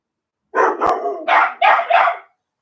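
Two dogs bark loudly and close by, a run of four or five sharp barks in quick succession, with no talking.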